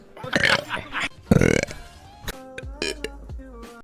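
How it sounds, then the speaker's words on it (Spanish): A woman gives several loud, drawn-out burps close to the microphone, with bursts of talk and laughter between them. "voy a volver a eructar. Creo que me sale igualito."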